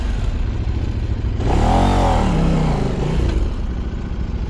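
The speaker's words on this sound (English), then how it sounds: "Then you will give some gas, let the clutch out, and after when the bike moves," An adventure motorcycle on an off-road hill start: the engine hums low, then the rider gives gas and it revs up and climbs for a couple of seconds before easing back down, loud and close, with no talk.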